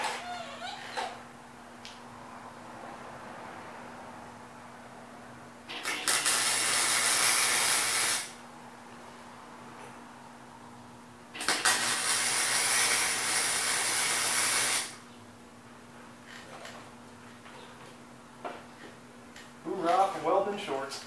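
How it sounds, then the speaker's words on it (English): Touch-up welds on a rat rod wagon make two sustained bursts of loud, crackling hiss, each lasting a few seconds, with quieter stretches and talking between them. "let's see if we can make this weld look respectable"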